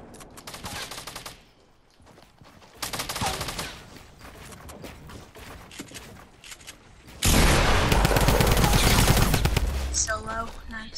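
Video game gunfire crackles in bursts of rapid automatic fire, with a loud sustained fusillade near the end, while players talk over it.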